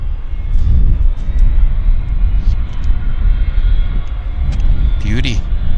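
An Icelandair airliner taxiing off its stand at Vancouver airport, a loud steady low jet rumble throughout with a rising engine whine near the end, heard from nearby outdoors.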